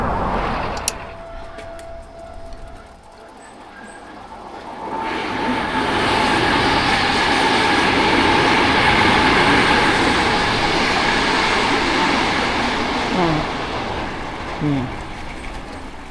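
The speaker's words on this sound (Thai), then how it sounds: "ปั่นแข่งกับรถไฟไปเลยจ้ะ" Heard from a bicycle ride in Japan, a train passes alongside, its rumble rising after a quiet start into a loud, sustained roar, with a few clacks near the end.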